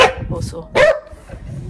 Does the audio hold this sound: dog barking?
yes